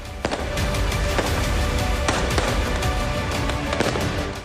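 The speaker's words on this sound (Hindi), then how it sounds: "वो लोगों को डराने के लिए सड़क पर हवाई फायरिंग कर रहे हैं" Shots fired into the air by rioters on a street in France: a loud, noisy outdoor scene with several sharp bangs at irregular intervals over a continuous wash of crowd and street noise.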